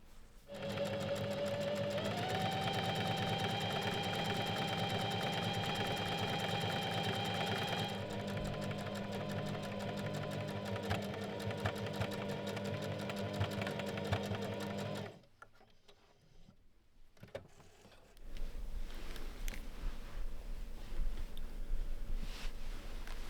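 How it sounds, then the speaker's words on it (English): A serger or zigzag sewing machine runs steadily while finishing the sleeve seam allowances of a robe, a loud continuous whirring rattle that shifts pitch and pauses briefly before starting again. "Use your serger or zigzag stitch to finish both sleeves."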